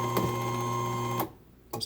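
A Genie 1035 garage door opener motor runs with a steady, fairly quiet hum and whine, then cuts off abruptly, followed by a brief clunk near the end.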